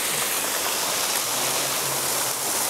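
Moving water of a stream flowing outdoors: a dense, steady rushing wash, loud and continuous throughout, with no talk over it.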